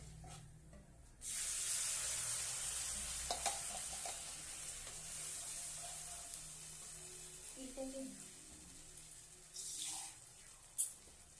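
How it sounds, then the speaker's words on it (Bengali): A pan being rinsed and a little water poured in while cooking a vegetarian paneer curry with spice paste, giving a burst of splashing and sizzling that settles into a steady hiss with light scraping and clinks, close and moderately loud. "এটাকে ধুয়ে অল্প জল এটাকে দিয়ে দিচ্ছি।"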